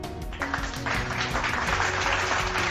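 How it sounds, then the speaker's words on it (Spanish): An audience applauds a guest at an entrepreneurship talk, a moderate wash of clapping running a few seconds over a steady musical backing. "Ismael, estos aplausos son para vos."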